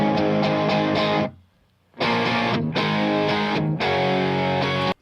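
Distorted electric guitar chords ring out loudly with a mono reverb wash panned to one side, broken by a brief silence before the strumming resumes.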